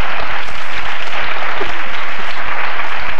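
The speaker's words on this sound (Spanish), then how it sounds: "Un aplauso aquí." A TV studio audience applauds loudly and continuously, a dense wash of clapping after a music group's appearance on a television programme.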